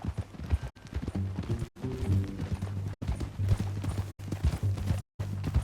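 Horse hooves clip-clopping at a walk in Red Dead Redemption 2, a steady rhythmic series of close, distinct hoof strikes broken by a few brief silences, with faint background tones.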